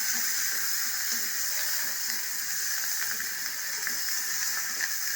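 Onions and curry leaves sauté in a pan of hot oil seasoned with curry masala and cinnamon, giving off a steady, even sizzling hiss with faint crackles, close and uninterrupted.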